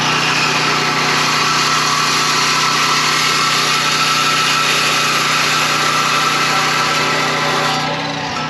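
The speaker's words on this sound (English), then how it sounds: "So what I'm gonna do is cut that in half and add a piece to the middle" A power tool cuts a gate latch piece in half with a loud, steady, high-pitched whine that runs unbroken for several seconds and eases off slightly at the end.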